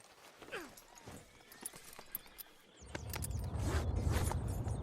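Horse hooves in Red Dead Redemption 2 clip-clop in a quick, uneven rhythm, followed by a rising rumble of movement, with a faint voice in the background.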